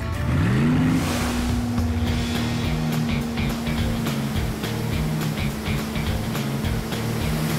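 A motorboat engine on the Hawkesbury River rises in pitch as it speeds up, then drones steadily and loudly, with water and wind noise around it.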